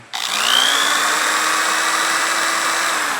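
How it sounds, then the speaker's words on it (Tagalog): A cordless power drill spins up and runs steadily at high speed during a solar power system installation, a loud continuous whine that holds its pitch without pause. "Okay, test tayo ng Barena, no?"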